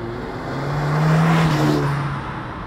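A Hyundai i30 SR accelerating hard through first and second gear, the engine note rising steadily to a loud peak, then easing as torque cuts, with no one speaking over it.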